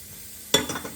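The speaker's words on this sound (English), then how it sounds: "I'm gonna toast the dry scallop. So I'm just toast that in there." Dried scallop dropped into a hot pan with egg white gives a sudden sizzle burst that settles into crackling frying and a brief scrape of stirring, close and fairly loud.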